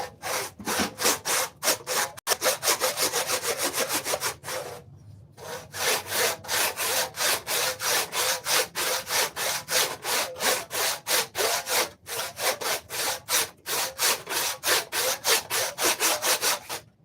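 A hand saw cuts through wood in fast, rhythmic back-and-forth rasping strokes, loud and close. Two brief pauses interrupt the steady sawing before the strokes resume.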